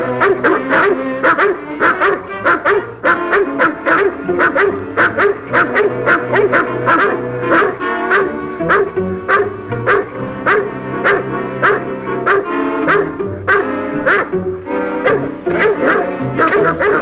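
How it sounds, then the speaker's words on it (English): Several dogs barking and yelping excitedly in an old 1939 Hollywood thriller, a continuous loud chorus of rapid barks overlapping one another for the whole stretch. "Hear those dogs?"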